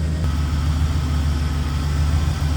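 A 1978 Chevrolet Camaro Z28 with a 350 V8 idling while it warms up, a steady deep low rumble held close and loud throughout, with no talking.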